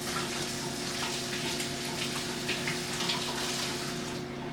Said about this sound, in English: so now let me wash my hands